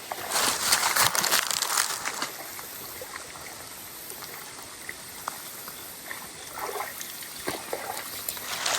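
Water of a stream trickling and splashing around hiking boots standing in it, with Salomon Forces Quest 4D GTX 2 boots nearby; a steady close babble with brief louder splashes near the start.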